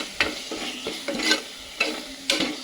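Mutton masala spices sizzle in hot oil while a spoon scrapes and stirs the pan in several distinct strokes, close and clear.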